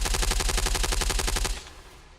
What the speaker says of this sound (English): one SAS soldier is hit by a wild spray of gunfire.